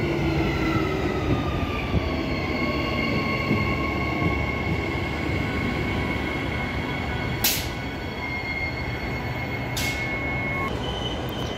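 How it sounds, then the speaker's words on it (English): EMU 110, a three-car electric multiple unit on a Butler service, pulls away from platform 2 at Currambine station, a loud steady rumble with rising motor whine and brief high squeals near the end. "EMU 110 is now departing platform 2 for a Butler service, stopping at Clarkson and Butler only"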